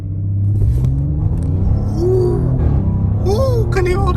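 A 2021 Audi S7 launching hard from a standstill: loud, continuous engine rumble with rising whine sweeps as it pulls through the gears, with brief vocal exclamations mixed in.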